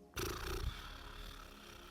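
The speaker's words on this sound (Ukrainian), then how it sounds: "глибокий вдих і видих через розслаблені губи" Someone performing the yoga horse breathing exercise exhales through relaxed, fluttering lips, producing a short, soft, buzzing lip-flutter rumble that starts abruptly and fades over under two seconds, close and quiet.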